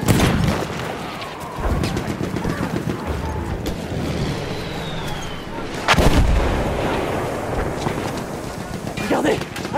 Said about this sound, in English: Grenade lancée! Tirez-vous!